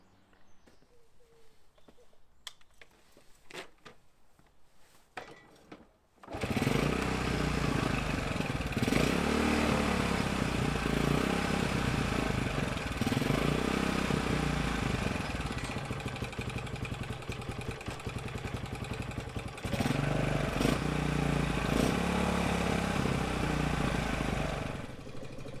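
A small Yamaha Townmate motorcycle engine starts after a few quiet seconds, then runs and idles steadily nearby with slight revving fluctuations.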